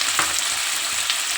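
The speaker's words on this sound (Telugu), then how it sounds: "ఆయిల్ అయితే వేడయిందండి. ఒక కప్పుడు ఉల్లిగడ్డలు పోసుకుందాము." Onions tipped into hot oil in a pan for a small-fish curry, a loud broadband sizzle bursting up at once and holding steady, close and alone.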